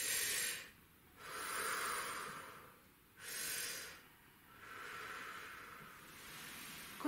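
A singing-lesson deep breathing exercise: slow, close, airy inhales and exhales through the nose and mouth, alternating in long cycles with short pauses between, quiet and unaccompanied by talk.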